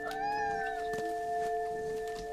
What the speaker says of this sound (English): I love how your cats sound so ticked off when it missed.